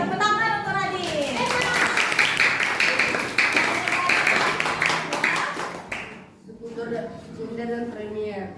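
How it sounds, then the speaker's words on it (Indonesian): A classroom of children claps for a student, a dense burst of applause lasting several seconds, with an adult voice speaking before and after it. "Oke, tepuk tangan untuk Radin."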